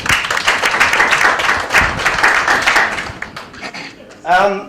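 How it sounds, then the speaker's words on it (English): An audience applauds an intern at a 2016 Q&A event: dense, steady clapping for about three seconds that thins out, then a voice begins speaking at the end. "Can you give her a round of applause?"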